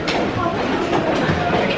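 A subway train in Korea rumbles along with a steady rolling roar and faint rhythmic clatter, close and continuous throughout.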